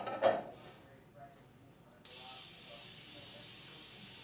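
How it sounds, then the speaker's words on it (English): A steady non-stick cooking spray hisses continuously onto a bundt pan for a couple of seconds after a brief quiet pause, close and fairly loud. "take our bunt pan and spray it with some non-stick spray"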